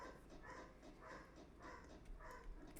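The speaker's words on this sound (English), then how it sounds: "In case you hear a dog in the background, that's our food hound." Distant, muffled yips or barks from a dog sound in the background, about five evenly spaced calls in a steady rhythm, faint under room noise.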